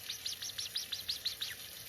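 A parrot imitates a laser gun with a rapid series of about eight sharp, sweeping zaps fired in steady rhythm over a soft background hiss.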